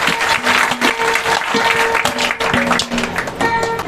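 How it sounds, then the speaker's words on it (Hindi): Loud audience applause for a young boy at a ragini folk performance, choppy bursts of clapping mixed with a sustained musical tone underneath. "एक बार जोरदार ताली उस बच्चे के नाम से"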